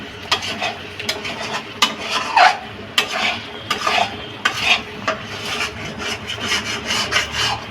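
A cashew and mushroom masala is sautéed in a pan, a spoon rhythmically scraping and rubbing through the thick mixture in repeated strokes under a light sizzle, close and fairly loud.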